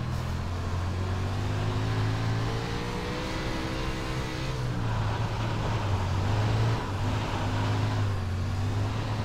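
A Wingless Sprint car with the smaller engine, in iRacing, drones steadily around a track, its engine rising and falling as it accelerates and lifts, loud with no talk.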